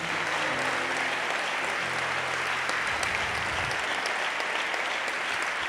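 A church congregation at a Christian conference applauds, dense sustained clapping from a large indoor crowd filling the whole stretch at an even level, with a few voices faintly murmuring underneath.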